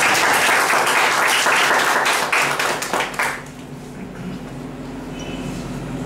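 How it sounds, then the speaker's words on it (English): Audience at an educational session breaks into loud, dense applause for a speech-contest speaker, sustained for about three seconds and then tapering off into a quiet room hum. "Give me a round of applause"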